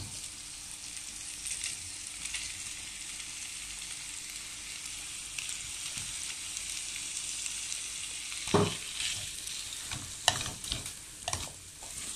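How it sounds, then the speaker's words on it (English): Bacon frying in a pan for a quick pasta with carrots and spring onions, a low continuous sizzle that swells near the end into several louder scrapes and clatters from stirring, no talk. "I'm adding my bacon here."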